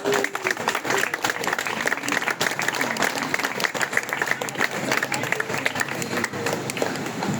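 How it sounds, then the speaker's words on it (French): A concert audience applauds the Radio France orchestras and choir, steady sustained clapping that fills the hall at moderate volume, with a few voices audible underneath. "on peut les applaudir déjà"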